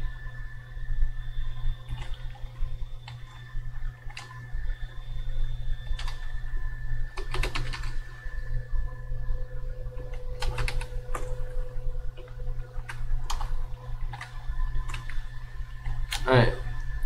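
Typing on a computer keyboard while entering code for a compound interest calculator, steady scattered key clicks under a constant background hum, with one sharper burst near the end.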